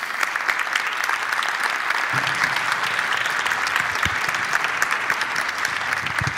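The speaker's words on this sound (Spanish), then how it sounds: "Un gran aplauso para ellos." Audience applause for guests on stage, a sustained, loud and even roar of many hands clapping throughout, with a few voices faintly mixed in.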